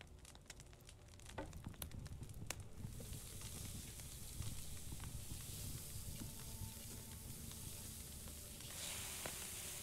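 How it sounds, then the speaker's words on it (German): Meat frying over a fire in the video game Medieval Dynasty, a steady crackling sizzle with some sharp pops early on, continuous and close, with no speech. "Das Fleisch brutzeln."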